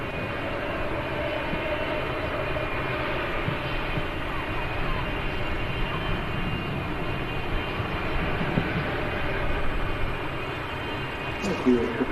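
Boeing 777 jet engines howl across an airfield in a sustained, loud, broadband roar with a steady rumble, while faint voices talk beneath it.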